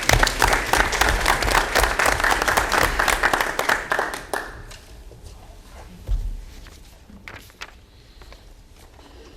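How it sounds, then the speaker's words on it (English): Loud applause from a crowd at a school board of education meeting fills the first few seconds, then fades to scattered claps and shuffling, with a brief thump near the end. "Round of applause"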